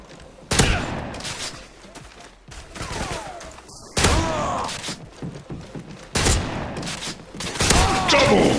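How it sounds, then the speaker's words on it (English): M60 light machine gun from the original Call of Duty: Black Ops, fired in loud sustained bursts with heavy booming reports and echoing tails, three long strings of automatic fire separated by brief pauses. "it had an epic firing sound to boot"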